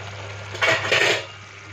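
Leaves in a pan are stirred once the lid is lifted: a single short metallic clatter and scrape over a low background hum.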